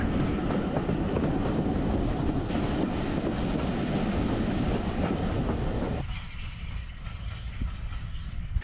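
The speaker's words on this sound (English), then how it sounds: "There seems to be a slight gradient out of the station, so we can get some good chuff" Steam locomotive on the Swanage Railway working up a slight gradient out of a station, a loud, steady rumbling roar of exhaust and rolling stock with no speech, the noise thinning slightly near the end.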